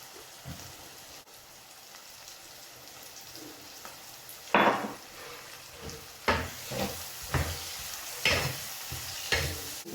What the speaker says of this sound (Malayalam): ചെറിയ ഉള്ളിയും ഇഞ്ചിയും വെളുത്തുള്ളിയും ഒക്കെ അരച്ചതും നമുക്ക് ഇട്ട് കൊടുക്കാം